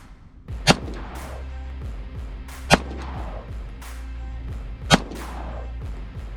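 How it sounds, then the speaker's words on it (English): Three loud, sharp pistol shots from a Glock with a Radian compensator, fired two-handed at a range about two seconds apart, each with a crack and a short echoing tail. "So this is two-handed with the Glock."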